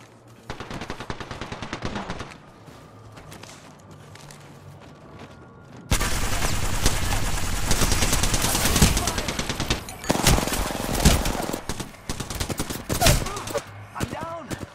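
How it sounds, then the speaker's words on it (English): Rapid video-game gunfire, sustained automatic bursts that start moderate and jump much louder after a few seconds, continuing in dense volleys with sharp peaks, no talking heard. "I'm taking fire."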